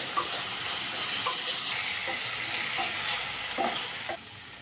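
Vegetable pulao is stirred in an open pan, with a constant bright sizzle and hiss and a few soft scrapes and taps of the spoon against the pan, and no one speaking.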